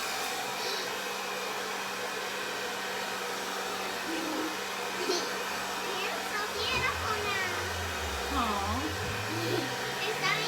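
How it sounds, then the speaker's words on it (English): A blow dryer running on its lower setting throughout, a constant close whooshing hiss with muffled voices and someone speaking faintly beneath it. "the blow dryer is on the"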